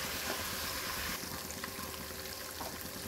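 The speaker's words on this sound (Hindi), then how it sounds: "मसाला हमारा भून रहा है" Spice masala for white chickpea chole frying in a pan with a little water added, a steady close sizzle with soft bubbling crackle that runs without a break and drops slightly in level partway through.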